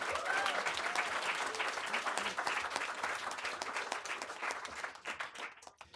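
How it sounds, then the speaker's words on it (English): An audience at a three-minute thesis competition applauds for the MA presenters, a full, even round of clapping that gradually thins and fades out at the end. "Let's have a round of applause for all of our MA presenters"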